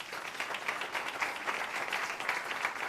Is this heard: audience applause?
yes